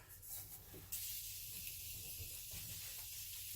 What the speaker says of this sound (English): Okay, and then I'll spray my face.